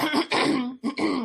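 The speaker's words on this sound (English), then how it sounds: "I had to clear my throat." A single person clears their throat loudly and up close, two rough bursts separated by a short pause.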